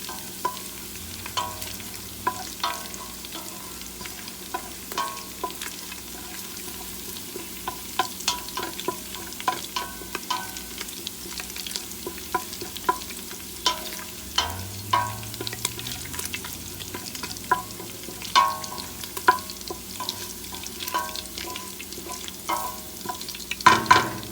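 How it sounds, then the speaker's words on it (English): Fresh garlic sizzles steadily in a pan for a long stretch, with frequent scraping and stirring clicks from a utensil and no one talking. "so I'm still frying up the fresh garlic, as you can see"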